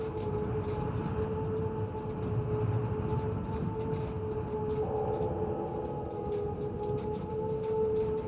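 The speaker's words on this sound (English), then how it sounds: "siren began sounding in the distance." A siren wails steadily from far off in a video game, two sustained tones holding over a low rumbling drone for several seconds with no voices.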